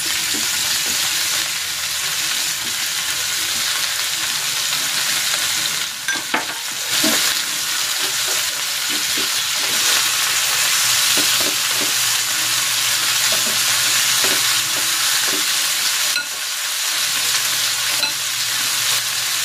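Onions sizzle and fry in a pan for chicken legs with rosemary, a steady loud crackle broken by occasional stirring scrapes and clinks, with no talking.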